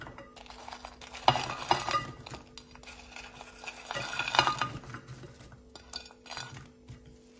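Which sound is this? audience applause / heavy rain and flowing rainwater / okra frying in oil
okra frying in oil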